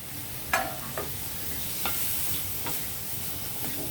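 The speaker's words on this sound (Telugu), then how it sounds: "అరటికాయ ముక్కలు అలాగే కరివేపాకు తరుగు పచ్చిమిర్చి ఇవన్నీ వేసేద్దాం" Raw banana pieces, chopped curry leaves and green chillies sizzle in a hot pan with a steady hiss, broken by a few sharp crackles and light stirring clicks, with no talking.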